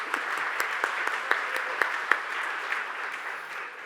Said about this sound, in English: Let's give a round of applause for them too.